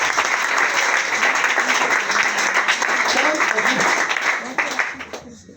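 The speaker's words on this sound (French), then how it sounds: "Maintenant, c'est acclame Jésus" A church congregation applauds in praise of Jesus: dense, sustained clapping from a crowd that fills the room, fading away at the end.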